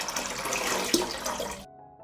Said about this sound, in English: I will pour water into the pot.